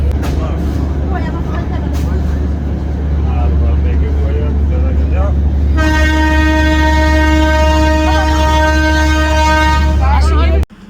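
A moving passenger train rumbles loudly and steadily, and its horn sounds one long sustained blast partway through before the noise cuts off abruptly.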